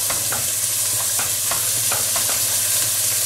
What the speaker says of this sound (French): Donc vous versez votre crème d'asperges dans le risotto. Vous mélangez bien.